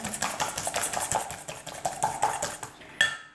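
A utensil stirs sugar briskly in a bowl for gluten-free cannelé batter, producing a quick rhythmic series of scraping clinks, close and moderately loud, ending in a brighter knock against the bowl.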